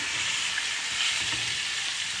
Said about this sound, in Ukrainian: М'ясо жаримо на дуже великому вогню.